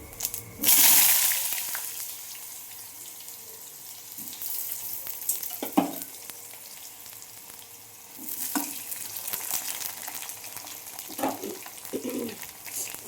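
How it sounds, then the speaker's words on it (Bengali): Cumin seeds tempering in hot oil in a wok, a loud initial hiss followed by a softer ongoing sizzle with scattered crackles and stirring, no talking. "কড়ার তেল গরম হয়ে গেছে। আমি এতে জিরে ফোড়ন দেবো।"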